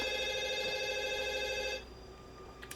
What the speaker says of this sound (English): Same ringing sound as in Scream.